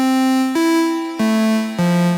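Four plain, buzzy notes from an initialized preset on an Arturia MicroFreak synthesizer play one after another, each held about half a second, a bright sawtooth-like tone stepping in pitch.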